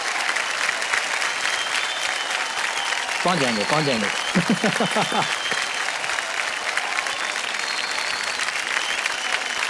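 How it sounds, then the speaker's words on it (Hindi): A game-show studio audience claps steadily and loudly throughout, a dense wash of applause with a brief stretch of a voice speaking over it near the middle. "तालियां बज जाएं जोरदार।"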